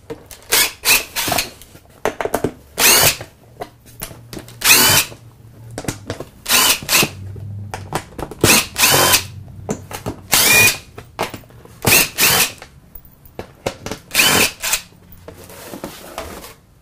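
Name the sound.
DeWalt screw gun running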